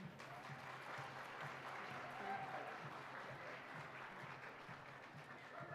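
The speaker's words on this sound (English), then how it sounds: "Big round of applause" Steady applause from a pow wow audience, a dense continuous patter of many hands clapping at moderate distance, holding even for several seconds with faint crowd murmur beneath.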